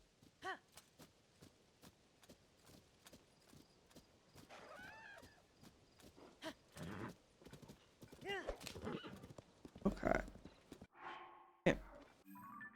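Horse hooves clip-clop over uneven ground in Zelda: Tears of the Kingdom, with a steady near rhythm, a whinny and scattered game effects and talk toward the end.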